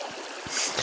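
A cold stream flows nearby in a steady, rushing wash of water that swells slightly toward the end, with no talking.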